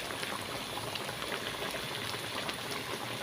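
A large snakehead fish simmers in boiling liquid for a spicy Thai stir-fry, giving a steady close bubbling and fizzing that stays even throughout with no voices.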